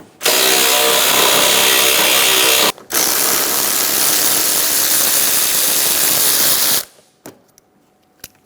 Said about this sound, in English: Using a 10mm socket, we're going to remove the two bolts for the intake.